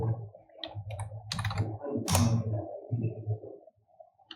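Keystrokes on a computer keyboard enter a command in a terminal, close clicky taps in uneven clusters with a sharper burst midway, over a low background hum.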